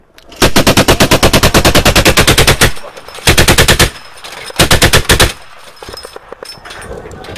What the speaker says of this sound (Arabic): هنا رشاش المجاهدين